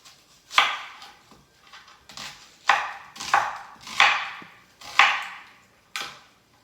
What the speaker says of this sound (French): je coupe très grossièrement